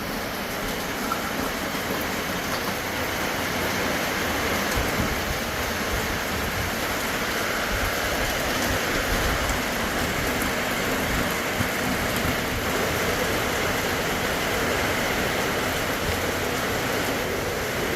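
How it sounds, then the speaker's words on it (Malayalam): Steady, even hiss of rain falling over an open paddy field, a continuous wash of noise with no voices. "പാടത്ത് മഴ പെയ്യുന്ന കാണിച്ചു തരാം കേട്ടോ"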